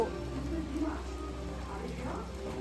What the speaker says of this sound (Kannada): ತುಂಬ ಮಳೆ ಬರ್ತಿದೆ ಗೈಸ್